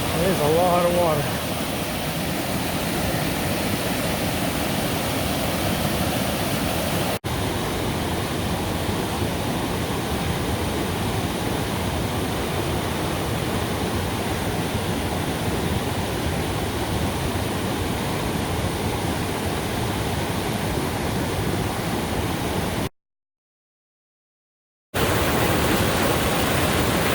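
Steady, loud roar of rushing mountain water along a backpacking trail in the High Uintas, a continuous broadband wash with no letup, broken only by a brief gap near the end.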